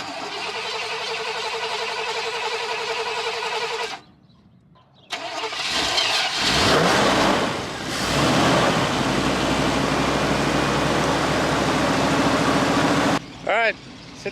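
A square body Chevrolet Suburban with transmission trouble cranks and fires up, then revs loudly and settles into a rough idle nearby, with a brief pause before the start and a person talking at points.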